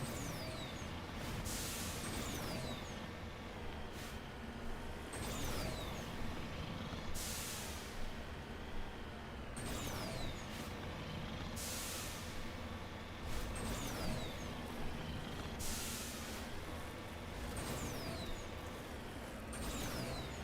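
A vehicle in the game Mass Effect drives and climbs terrain, giving a continuous, heavy engine rumble with recurring hissing bursts every few seconds and no voices.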